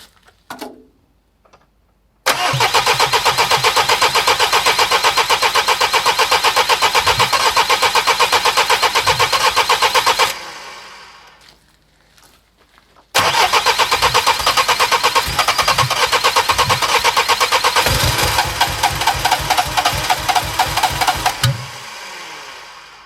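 Car engine cranking without firing, a loud rhythmic starter churn in two long bursts of about eight seconds each, separated by a short pause and ending in a few slowing turns.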